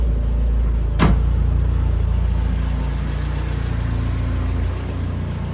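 Toyota Tercel 4WD with an automatic transmission idles steadily, a low continuous engine drone heard close up, with a brief sharp click near the first second as the gear selector is moved through its positions.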